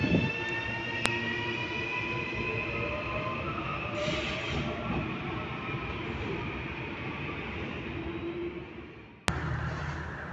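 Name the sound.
metro train in Jaboatão dos Guararapes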